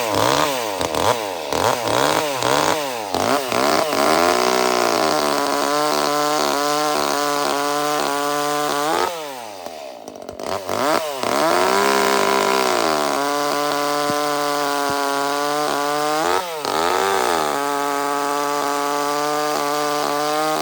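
A well broken-in ECHO CS310 gas chainsaw with a muffler mod cuts through wood up close, its loud two-stroke engine revving and bogging in repeated cuts, dropping to a brief idle between them before bearing down again.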